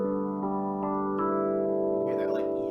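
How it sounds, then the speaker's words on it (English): An electronic piano preset with a phase effect holds sustained harmonic chords that gently swirl, a new chord entering partway through, with a faint bit of noise near the end. "With the phase effect, it sounds like this."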